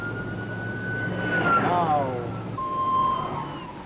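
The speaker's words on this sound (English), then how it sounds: "the sound of a siren will never reach a car 100 feet in front of you" A 1970s police car siren wails and sweeps in pitch over steady road noise, heard from inside a moving vehicle and fairly distant.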